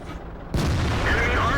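A Waffenträger auf Pz. IV tank destroyer in World of Tanks fires its gun: a sudden heavy boom breaks a quiet stretch about halfway through, then rolls into a loud, sustained rumble of battle noise.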